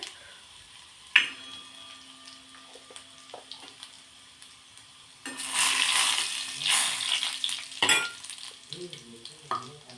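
Chopped garlic and a pinch of asafoetida with curry leaves frying in hot oil for a Marathi dal, a quiet hiss at first that swells into a loud crackling sizzle midway, with a few utensil clinks.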